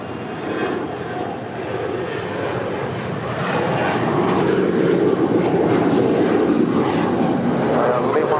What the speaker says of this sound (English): Next departure is Alaska Airlines. It's a 737-900ER.